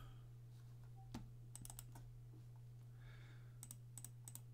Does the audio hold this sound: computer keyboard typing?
yes